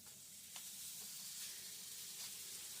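Sausage and bacon sizzle in a hot frying pan with a steady, fairly quiet broadband hiss and a few faint crackles, with no voices.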